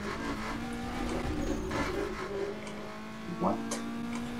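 Someone imitates a car engine with their voice, making a rising, revving hum that wavers and climbs over a faint background, with a sharp vocal swoop near the end.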